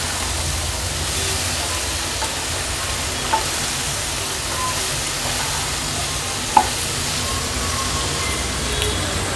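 Brinjal pieces sauté in green masala over a high gas flame, giving a steady, close sizzle with faint stirring scrapes and a sharp clink of the spatula near the middle.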